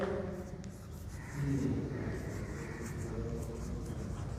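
Chalk or marker scratching across a board during a Class 12 English lecture, a continuous close scraping and rubbing with steady loudness.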